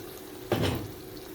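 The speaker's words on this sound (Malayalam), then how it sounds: "ഈ സമയത്ത് നമുക്ക് ഒരു ഗ്ലാസ് വെള്ളം ഒഴിച്ച് കൊടുക്കാം." Water from a glass poured into a pan of Kerala-style fish curry with sautéed masala, a brief hissing splash lasting under half a second, close and moderately loud.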